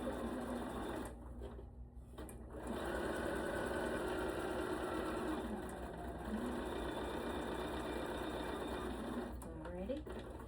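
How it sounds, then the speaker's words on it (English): A sewing machine stitches forward and then backward while a pocket is sewn, running as a close, steady mechanical whir with short pauses and restarts, and a brief voice near the end. "Take a couple stitches forward and then go backward."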